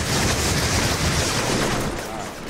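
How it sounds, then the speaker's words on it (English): Heavy gunfire in the Infamous video game, a dense, roaring wash of shots and blasts that stays loud and continuous before easing slightly at the end. "I'm just shooting at nothing"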